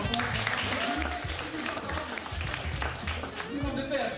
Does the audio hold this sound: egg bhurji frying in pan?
no